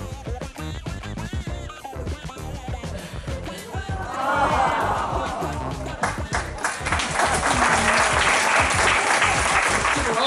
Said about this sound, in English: Let's give a round of applause for Roscoe the Rabbit.